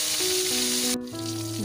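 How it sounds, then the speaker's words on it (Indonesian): Fish drops into hot frying oil, giving a loud, steady, close sizzle that crackles continuously, with a brief dip midway before the frying hiss resumes. "jadi ini minyaknya sudah panas, jadi ikannya aku masukin ya guys"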